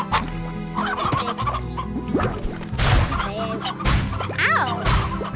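Chickens in the video game Slime Rancher cluck and squawk in a busy flock, with close, loud, overlapping calls and a few sharp bursts over a short stretch.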